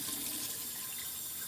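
Cold water runs steadily from a bathroom tap while someone washes their face. It makes a constant, close hiss and splash with no voices over it.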